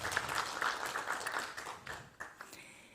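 An audience at an education ministry project briefing applauds, a dense wash of clapping that fades gradually over a few seconds.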